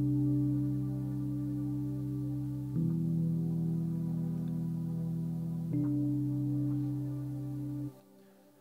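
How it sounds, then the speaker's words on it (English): Labs electric piano layered with a soft pad synth, sustained mellow chords changing twice at an even pace, steady and moderately quiet, then cutting off near the end, with no talking. "Doesn't that electric piano sound beautiful?"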